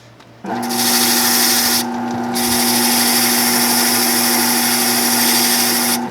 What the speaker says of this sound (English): This is the double-sided cut now, and we're gonna deburr both sides.